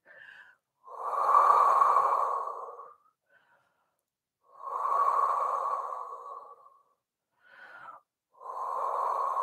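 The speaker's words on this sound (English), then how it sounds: "just take a few deep breaths here" Slow, deep breaths during a Pilates stretch, long airy inhales and exhales of about two seconds each with short pauses between, close and clear without speech.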